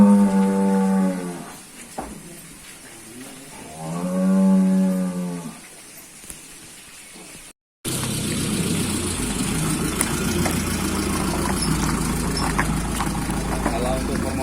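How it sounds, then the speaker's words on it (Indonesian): Dairy cows at a farm give two long, loud lowing moos close by, followed by a steadier rumble of an idling engine and background noise in the latter half. "Yang ini adalah sapi-sapi perah namun tidak lagi produktif."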